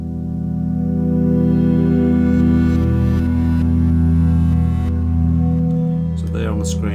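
A Waldorf Quantum synthesizer's particle engine ping-pongs a sample loop region back and forth on its second oscillator, giving a sustained, buzzy harmonic drone that swells and shifts steadily, loud and close, with a brief voice near the end.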